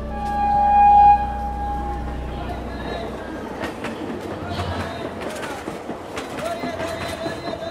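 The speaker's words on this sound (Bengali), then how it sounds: "যথাসময়ে ট্রেন ছাড়ল।" Train departing a station, first with a loud low hum and a tonal whine near the start, then rolling away with steady rumble and clattering wheels, fairly close and continuous.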